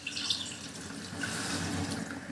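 Water poured from a 1.5 litre jug into a pot while making beef paye, a steady close splashing pour lasting a couple of seconds without talk.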